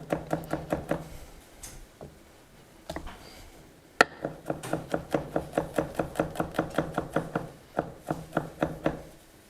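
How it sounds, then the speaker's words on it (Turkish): Garlic cloves being lightly crushed with a knife for a lamb rib dish, heard as rapid close knocks of the blade on a wooden board in quick bursts, one sharp louder hit partway through, no speech. "Biz de bu arada bir diş, bir iki diş sarımsağı hafif ezeceğiz."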